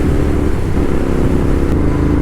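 Royal Enfield Interceptor 650 with an upgraded aftermarket exhaust, heard on a highway ride as a loud, steady low engine rumble close by that holds continuously without breaks.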